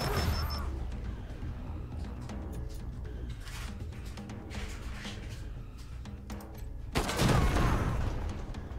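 Gunfire from the video game Wasteland 3 lands as a headshot. A busy stretch of game sound effects builds to a sudden, loud burst near the end.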